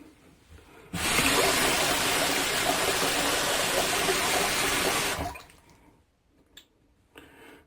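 Running water rinses out a clogged 3D printed razor, a steady close rush from the tap for about four seconds that then cuts off, leaving faint small handling sounds.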